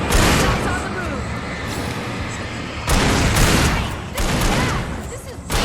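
Gunfire during a firefight in the video game Alan Wake, heavy bursts of shots layered with booms and dense noise, loud and close, with surges at several points across the clip.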